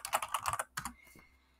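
Rapid typing on a computer keyboard while entering text in Microsoft Word, a dense burst of close, crisp key clicks followed by a few slower, separate taps that fade out.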